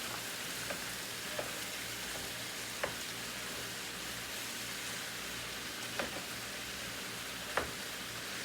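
Garlic and onions fry in a pan with ground beef, a steady, close sizzle running throughout, broken by a few faint clicks and taps of a utensil against the pan.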